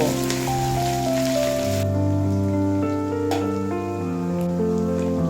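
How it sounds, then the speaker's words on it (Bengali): Ginger and green chili paste frying in a pan for a vegetarian bean, potato and lentil-dumpling curry, with a soft continuous sizzle beneath steady background music, fading further after the first couple of seconds. "এই আদা কাঁচা লঙ্কা বাটা দিয়েও এক মিনিট মতো ভেজে নেব"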